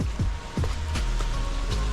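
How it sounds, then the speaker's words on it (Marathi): Heavy rain falls in a Konkan forest, a dense steady patter on the surfaces around, with a few louder drops and thuds. No one speaks. "जोरात पाऊस आलेला आहे"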